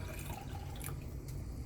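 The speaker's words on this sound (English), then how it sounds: "I just get some water, pour it into the jar" Water poured into a glass jar holding sauce leftovers, a short splashing, trickling pour, close and fairly quiet.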